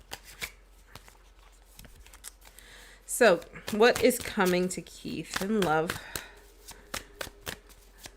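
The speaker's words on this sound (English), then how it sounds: "Nice shuffle" A deck of tarot cards is riffled and shuffled in a run of sharp, rapid flutters and clicks, close and crisp, while a person talks over the middle of the shuffling.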